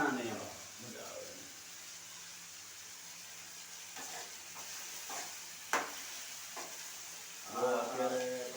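Brinjal pieces fry in oil in a home kitchen, a soft continuous sizzle running underneath, broken by occasional scraping and clinks of a utensil in the pan, with voices talking at the start and end.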